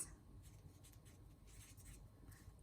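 A pen scratches across a folded paper fortune teller in short, quiet strokes, coming in several separate bursts with brief gaps between them, faint and close, with no voices.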